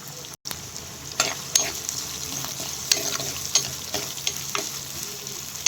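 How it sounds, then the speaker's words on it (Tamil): Onions and green chilies sautéing in a pan while potato and egg stir-fry is being made, giving a steady close sizzle with scattered stirring scrapes and clicks throughout, no talking. "பச்சை மிளகா போட்டு கொஞ்சம் நல்லா வதக்கி விடணும்"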